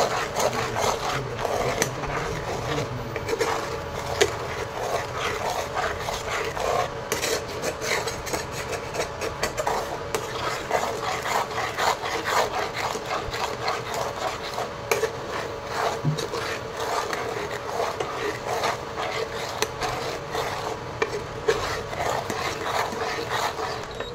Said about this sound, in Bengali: স্বাদ মতন নুন। ভালো করে এটাকে মিশিয়ে নিতে হবে।